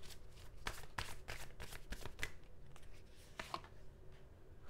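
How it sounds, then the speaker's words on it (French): Tarot cards shuffled and drawn by hand, a quick close riffle of soft papery slaps and flicks that thins out toward the end, with no talking over it. "je vais juste tirer quelques cartes supplémentaires pour les Capricornes"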